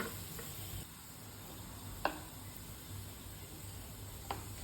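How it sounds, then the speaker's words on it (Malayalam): Garlic frying in a pan while pasta sauce is being made: a faint, steady sizzle with a couple of brief clicks or taps from utensils. "വെളുത്തുള്ളിയൊക്കെ നല്ല ഫ്രൈ ആയി വന്നു."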